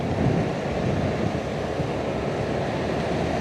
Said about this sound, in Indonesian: Pantai Batu Mejan.